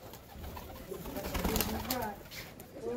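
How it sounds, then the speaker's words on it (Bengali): Pigeons in a rooftop loft with a breeding room coo in a soft, overlapping murmur, fairly close, with low voices talking underneath at times. "এগুলো সব পায়রা রয়েছে"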